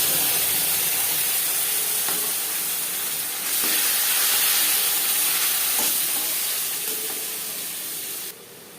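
Coconut frying in a pan for coconut chana dal, a loud steady hissing sizzle with faint stirring scrapes, close and unbroken before dropping slightly at the end, with no talking.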